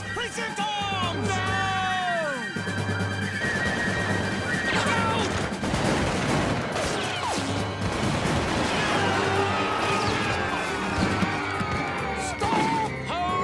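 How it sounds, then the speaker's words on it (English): Chaotic animated battle scene with musket gunfire, loud crashing shots and impacts over shouting voices and a dense, busy background din, continuous and close. "Tom, we're being shot at!"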